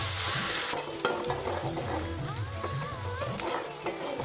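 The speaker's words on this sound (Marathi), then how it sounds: "सतत असं हलवत राहायचं म्हणजे कांदा असा एकसारखा शिजतो" Onion sautés with green chillies and cumin in hot oil in a pan, stirred continuously: a steady sizzle under repeated scraping strokes of a spoon against the pan and occasional sharp metallic taps, close up with no talking.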